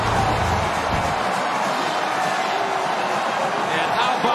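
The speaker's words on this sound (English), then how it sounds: "Listen to this crowd at Michigan Stadium." Roaring crowd at Michigan Stadium after a successful extra point in a Michigan–Ohio State college football game, a dense, loud, sustained wash of cheering that fills the whole stretch, with a commentator talking over it.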